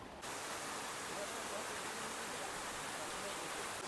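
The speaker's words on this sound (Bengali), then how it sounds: "এই ঝর্ণার জল, এই জল চলে যাচ্ছে গিয়ে মিশছে পলপলা নদীতে" Waterfall water rushes over rocks and flows on into a river at an Odisha beauty spot, a steady broadband roar close by, continuous and even throughout.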